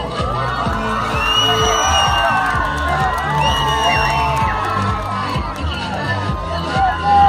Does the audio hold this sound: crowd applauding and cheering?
yes